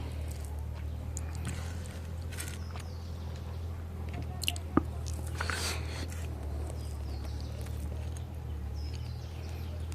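Someone chews broiler chicken meat with wet, squishy mouth sounds close up, repeating irregularly over a steady low hum, with one sharp click midway.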